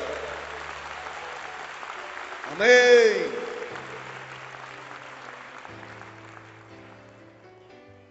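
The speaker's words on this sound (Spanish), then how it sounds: "Si lo va a aplaudir, hazlo con ánimo" A church congregation claps at a worship service, a faint wash of hands beneath sustained music tones, with a single voice rising briefly over it partway through.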